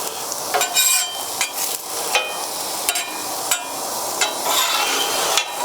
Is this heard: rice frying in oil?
yes